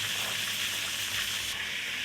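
Chopped tomatoes frying in a pan for Tamil tomato chutney, a steady loud hiss and sizzle that runs unbroken throughout, with no talking.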